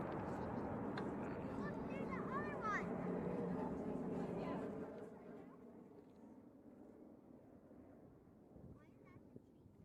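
The Stratolaunch Roc aircraft passes low over a runway, a broad roaring engine wash with wind buffeting that is loud at first and then fades to a faint distant rumble, with voices talking over it.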